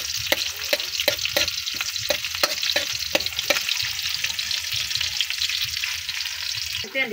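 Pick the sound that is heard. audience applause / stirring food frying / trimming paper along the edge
stirring food frying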